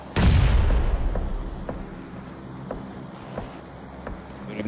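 A loud booming bomb explosion in a video game, one sudden blast close by that decays into a faint rumbling tail with light ticking sounds, no talk.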